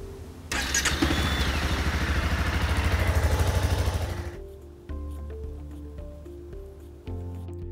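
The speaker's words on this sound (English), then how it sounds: "wipe everything down so that we can spot leaks after we run the engine up to operating temperature" Motorcycle engine fires up and runs with a close, steady chugging idle for several seconds before cutting off, followed by a few faint clicks and knocks.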